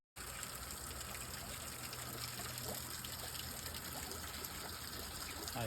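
Water from a pump falls steadily into a koi pond iced over in bitter cold, a constant splashing gush heard close and unbroken throughout.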